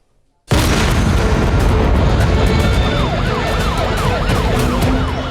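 A bomb blast in Delhi, in news footage: a sudden loud boom erupts into sustained roaring noise, and wailing emergency sirens rise over it moments later.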